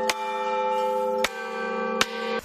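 A bronze church bell, cast from copper and tin at a foundry in Thesprotia, Greece, is struck three times at steady intervals. Each loud strike rings out into a long, rich humming tone, with no voices.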